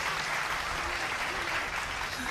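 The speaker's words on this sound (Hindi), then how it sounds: "एक बार ताली साहब बजा दो" Sustained audience applause at a live Hindi poetry or comedy performance, a steady dense clapping wash filling the whole stretch with no talk over it.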